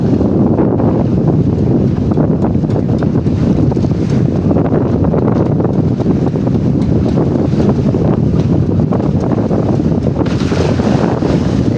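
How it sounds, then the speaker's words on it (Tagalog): Strong northeast monsoon wind buffets a boat out on the Pacific Ocean, a loud, steady roar of gusting wind across the microphone with waves and surf churning beneath it, continuous throughout with no pauses. "malakas ang hanging amihan."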